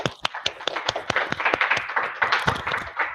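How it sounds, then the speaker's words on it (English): An audience applauds after a talk on mapping the brain, a few distinct sharp claps at first that quickly swell into a fuller, steady round of clapping from a modest-sized room. "Let's give you an applause."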